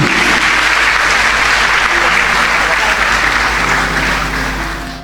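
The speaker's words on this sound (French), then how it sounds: "Est-ce que vous pouvez acclamer pour le Seigneur Jésus-Christ?" A church congregation applauds and cheers for Jesus Christ, producing loud, sustained crowd clapping that continues evenly throughout and tapers slightly at the end.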